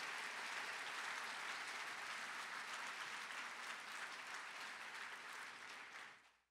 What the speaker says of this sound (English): So a round of applause for James and all he's done